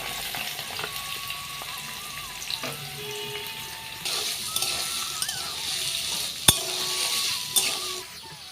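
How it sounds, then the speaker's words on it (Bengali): Chopped papaya fries with cumin and bay leaf in hot oil, a continuous sizzle with scraping and stirring clatter and a few sharp clicks, no voices. "ফোড়নটি ভালোভাবে ভাজা হয়ে আসলে আমরা দিয়ে দেবো কুচিয়ে রাখা পেঁপেগুলি"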